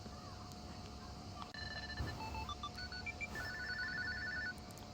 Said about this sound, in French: Vous entendez, mon écouteur sonne.